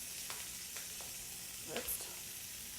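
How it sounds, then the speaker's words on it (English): Sausages sizzle quietly in a paella pan as they are flipped, a soft steady frying hiss broken by a few light taps and scrapes of a utensil. "So let's just flip these sausages over."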